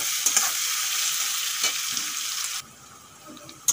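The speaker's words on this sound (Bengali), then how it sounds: "পেঁয়াজ ভালো করে ভাজা হয়ে গেছে" Onions sizzle in a pan for a duck curry while being stirred, a close steady frying hiss with occasional scraping clinks, fading quieter near the end.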